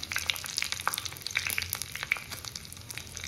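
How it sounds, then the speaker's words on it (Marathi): Curry leaves and dried chillies crackle in hot ghee for a tempering, a close sizzle full of sharp pops and spits that keeps going throughout. "मस्तपैकी याच्यात पहिला कढीपत्ता. फोडणी मात्र 1 नंबर बसली पाहिजे ह्याला. नंतर सुक्या मिरच्या"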